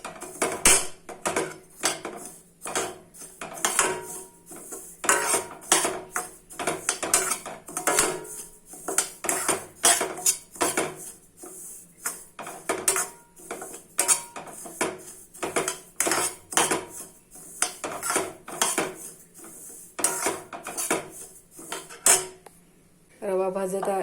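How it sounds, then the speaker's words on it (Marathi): Semolina roasting in a pan, stirred with a metal spoon: a long run of close, dry scraping and clinking strokes against the pan in an uneven rhythm, with a brief pause just before the end. "रवा भाजत यालाय. ह्याच्यामध्ये तूप टाकून अजून भाजून घ्यायचं."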